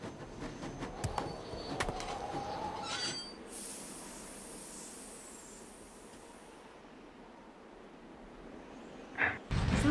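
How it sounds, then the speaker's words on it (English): A train departing a station in a Nancy Drew video game, rumbling rail noise with squealing wheels and clanks, then a long hiss and steady roll, pigeons cooing faintly nearby. "Sounds like the train's leaving."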